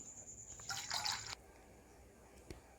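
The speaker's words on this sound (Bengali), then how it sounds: "এখন এই জলের মধ্যে আমি তেঁতুলের জলটা যেটা চটকে রেখেছিলাম সেটা আমি ঢেলে দিচ্ছি" Tamarind water poured into a bowl of water for puchka: a brief splashing pour lasting well under a second, then near silence broken by a single faint drip.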